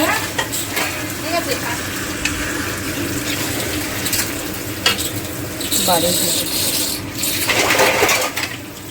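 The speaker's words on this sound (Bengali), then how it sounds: "এখন এখানে মাংস কষানো হচ্ছে।" Meat is being fried down in a pan to make kosha, with a steady sizzle and the scrape of stirring running throughout and brief bursts that sound like running water.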